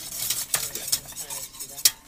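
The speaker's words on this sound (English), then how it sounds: "We're whisking in the egg yolks." A whisk beats egg yolks into a seafood Newburg sauce in a pan, giving quick, repeated scraping clinks of metal against cookware with brief bright accents. It is heard alone at close range.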